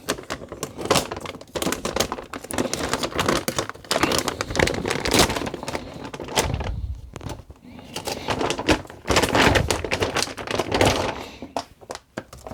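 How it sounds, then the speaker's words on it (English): Plastic packaging is torn open along its tear strip, with loud, close crinkling, ripping and crackling that runs in dense irregular bursts, a brief lull midway, and handling thumps. "It's got a tear off bit across the top."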